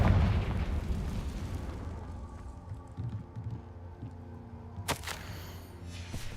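Confringo blasting spell in Hogwarts Legacy: a loud explosive boom at the start that rumbles and fades, followed by a sharp magical crack and burst partway through, with a quieter ambient tail.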